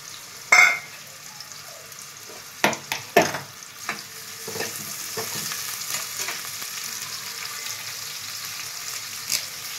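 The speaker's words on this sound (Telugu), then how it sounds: "పచ్చిమిర్చి, ఉల్లిపాయ తరిగి పెట్టుకున్నాం కదా, ఇది ఫ్రై చేసుకోవాలి." Green chillies and onion dropped into hot oil, a few sharp splashes and spatters followed by a steady soft sizzle with occasional stirring clinks, close and alone.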